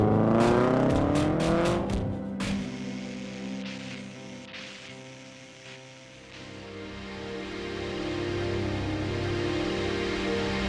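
A race car on a windy track roars past at close range, then its engine note drops away and fades. The engine builds again, revving louder toward the end with a steady tonal drone.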